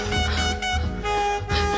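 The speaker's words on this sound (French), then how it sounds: "il est doté d'un klaxon à turbine compressée à cuve thermique" A horn with a compressed turbine and thermal tank blares loud, sustained harmonic blasts in several pulses, with short breaks between them.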